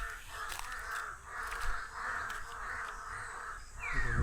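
Many crows caw repeatedly overhead in a rhythmic series of harsh calls, moderately loud over a steady outdoor background hum.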